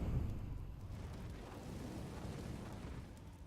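A grenade bursts in a competitive video game match, a dull rumbling blast that swells at the start and then rolls on as a low, sustained roar for a few seconds, with no voices over it.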